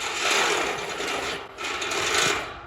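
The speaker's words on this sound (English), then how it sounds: "That was my drill exploding." A power drill failing mid-use while building a steel carport, heard as a harsh grinding, rasping mechanical whir in two surges with a brief dip between them.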